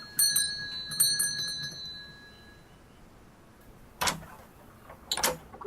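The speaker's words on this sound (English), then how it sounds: "Ring the doorbell." In the video game Contradiction, a doorbell rings with a few bright chiming strikes near the start, followed by quiet and then a couple of sharp knocking or door noises later on.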